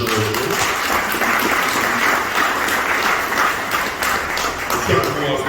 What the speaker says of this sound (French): on vous demande d'applaudir aux gens